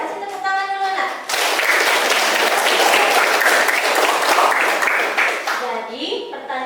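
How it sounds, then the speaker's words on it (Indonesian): Children applauding in a classroom, a loud burst of clapping that starts after a brief moment of voices and fades near the end as talking resumes. "Kasih tepuk tangan dulu Nak"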